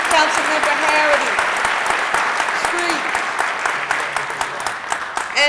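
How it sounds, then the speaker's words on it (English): Loud, sustained applause from an indoor crowd at a swearing-in ceremony in a middle school, dense clapping that holds steady and then thins into scattered claps near the end. "Give them all a round of applause, please."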